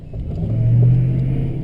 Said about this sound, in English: Bring the truck up farther too, Rick.